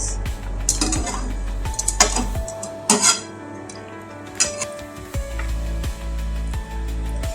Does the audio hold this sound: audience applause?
no